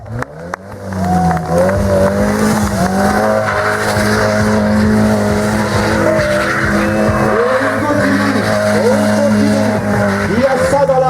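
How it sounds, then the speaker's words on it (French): Stunt motorcycles arrive at a show at the Roches de Nans, with loud sustained engine roar, revving and tire squeals throughout, close and continuous under crowd noise. "On va arriver bien sûr en moto, bien sûr, et notre ami Stéphane, qui vont nous faire encore un show"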